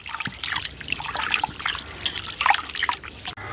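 Moong dal lentils are squeezed and rubbed by hand in a bowl of water. The result is a steady close-up wash of trickling, sloshing and dripping water with small splashes throughout.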